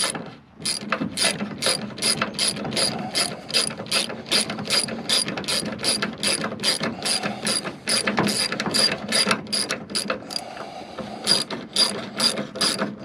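A hand ratchet tightens the tailgate lock bolt on a 1998–2016 Ford F-Series truck, giving a fast, regular series of close, sharp clicks in steady bursts with brief pauses.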